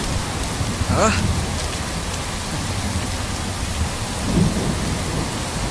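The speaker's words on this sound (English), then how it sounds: "It's raining heavily." Heavy rain pours in a constant loud hiss while thunder cracks sharply once and rumbles again a few seconds later.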